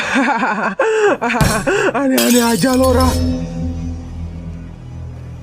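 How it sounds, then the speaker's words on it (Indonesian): Ceramic school bowl shattering in Sakura School Simulator, a sharp loud burst of breaking crockery cutting through animated voices, with talk before and after. "Semua mangkok sekolah yang bunyinya kayak gitu kalau pecah"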